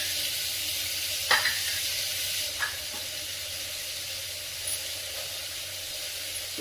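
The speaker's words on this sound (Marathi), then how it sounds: "1 चमचा तुपामध्ये हे गाजर व्यवस्थित परतून घेऊया." Carrots sautéing in a spoonful of ghee for carrot halwa give off a soft, steady sizzle with a few brief stirring clinks, close by and alone.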